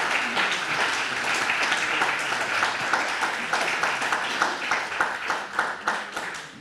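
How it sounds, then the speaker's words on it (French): An audience at an auto-cross club meeting applauds its retiring president, steady dense clapping that fills the room for several seconds and then thins into a few slower, distinct claps toward the end. "je voudrais qu'on l'applaudisse"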